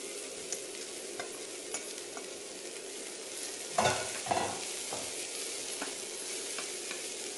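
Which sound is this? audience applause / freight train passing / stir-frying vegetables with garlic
stir-frying vegetables with garlic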